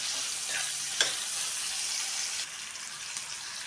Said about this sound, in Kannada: ಅದಕ್ಕೋಸ್ಕರ ನಾವು ಸ್ವಲ್ಪ ಎಣ್ಣೆಯಲ್ಲಿ ಈ ಥರ ಫ್ರೈ ಮಾಡ್ಕೋಬೇಕು.